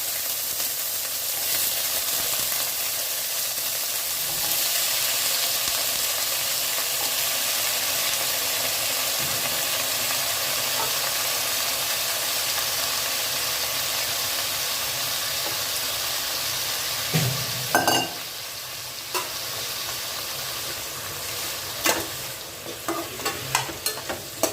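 Vegetables frying in a pan with steady sizzling and hissing throughout, broken by a few louder scrapes and clatters of stirring toward the end; close and continuous, with no voices.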